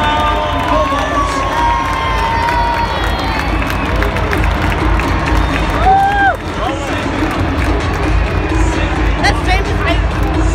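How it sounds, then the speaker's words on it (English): At a rugby league match between the St George Illawarra Dragons and the Canterbury Bankstown Bulldogs, a large stadium crowd cheers and shouts continuously, with whistles and individual yells rising above the roar. "Stand and cheer for Josh Jackson and the Canterbury Bankstown Bulldogs."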